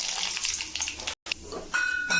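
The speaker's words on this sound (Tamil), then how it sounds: "கடுகு போட்டுடலாம்" Mustard seeds crackle and sizzle in hot refined oil, a brief close frying burst with a short gap partway through.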